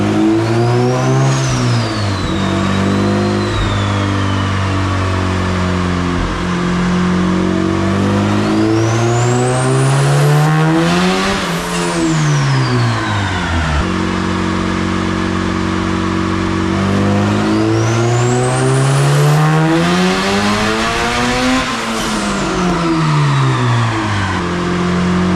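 A turbocharged B16 engine in an EF hatchback revs hard on a dyno, climbing to a loud, high-pitched scream and dropping back twice in long sweeps. No voices are heard over it.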